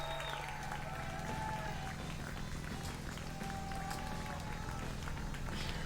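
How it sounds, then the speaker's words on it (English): Crowd applause and cheering in the Snoot Game visual novel, a continuous dense wash of clapping with tonal background music underneath, steady and moderately faint throughout. "The applause turns to cheers, and the cheers turn into uproar."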